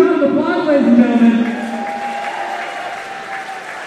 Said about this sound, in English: Give yourselves a huge round of applause, ladies and gentlemen.